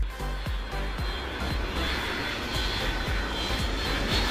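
Two aircraft engines drone loudly and steadily, a dense close roar with a faint rhythmic pulsing underneath.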